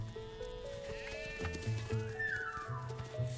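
Several sheep bleat in a cartoon pasture scene, overlapping calls rising and falling close by over soft background music, with no talking.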